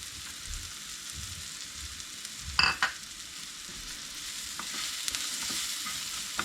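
Slit chilies dropped into golden brown onions frying in a pan, giving a steady close sizzle with a brief louder crackle as they go in, then light stirring scrapes and continued frying hiss.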